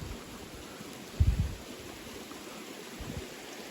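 A stream flowing near a forest stretch of the North Country Trail between Sugar Bay and Hammond Run gives a faint, even rushing hiss, broken once by a short low thump of handling or a footstep.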